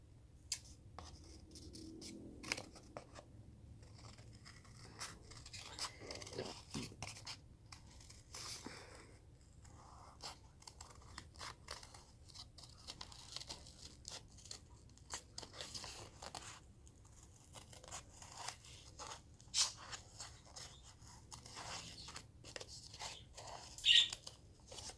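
Scissors cut out a paper butterfly in quiet, close snips and crunching slices, a steady irregular series of soft cutting sounds with small louder bursts near the end.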